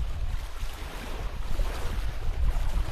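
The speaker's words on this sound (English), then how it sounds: "the waves are pretty loud today" Ocean waves rolling onto a shore, a continuous broadband roar with gentle surges, mixed with wind buffeting the microphone, no voices.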